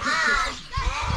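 A crow gives a loud, close caw that is sustained and harsh, followed by a second, shorter caw, all heard alone with no talk.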